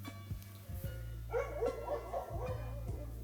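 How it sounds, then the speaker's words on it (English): A dog barks outside in short yipping bursts, a few quick barks heard at a distance over a constant low hum. "dog barking outside"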